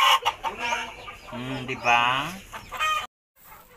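Backyard chickens clucking and crowing at close range, loud rhythmic calls with a brief spoken word among them, ending in a short gap of silence.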